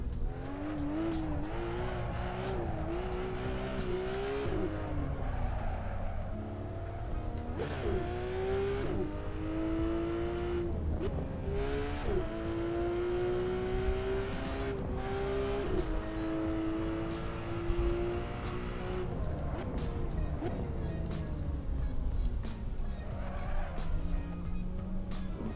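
Racing car engine revving hard and shifting through gears in the RaceRoom racing game, with tire squeal and skids under a steady loud engine drone throughout; no talking.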